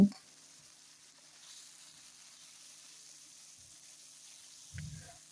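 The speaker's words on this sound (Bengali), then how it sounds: "এখানে যে মশলাটা বেটে রেখেছিলাম সেটা দিয়ে ভালো করে ভেজে নিচ্ছি" Freshly ground masala paste fries in a pan for a fish-head chhyachra, giving a faint, steady sizzling hiss with a couple of brief low thumps near the start and end.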